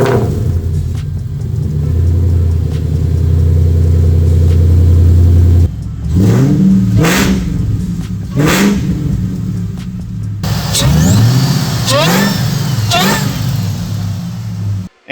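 A Terminator-swapped Mercury Marauder with a custom 2.5-inch stainless exhaust idles with a deep, steady rumble, then blips through several sharp, loud revs at close range, rising and falling in quick succession.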